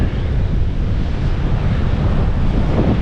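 Ocean waves wash onto the beach at Broadbeach on the Gold Coast, a steady, loud roar of surf mixed with heavy wind buffeting the microphone, with no voices.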